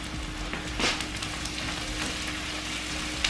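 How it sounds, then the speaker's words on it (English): Onions sizzle and caramelize in a hot pan for a casserole, with a steady soft crackling hiss and a brief stir scrape, close by and fairly quiet with no voices. "The onions smell so good. Just gonna let them caramelize just a bit longer."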